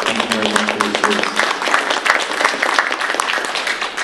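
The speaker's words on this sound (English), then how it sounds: "Please give these folks a round of applause." An audience at a candidate forum gives service members a round of applause. The clapping is steady and close, with a brief voice or cheer at the start.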